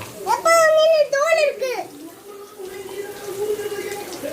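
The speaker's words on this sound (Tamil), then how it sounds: "என் பொண்ணு கத்துறா" Someone shouting and crying out loudly in a home kitchen while food is cooked in an aluminium kadai, her high voice rising and falling in drawn-out wails for a couple of seconds, followed by quieter, fainter vocal sounds.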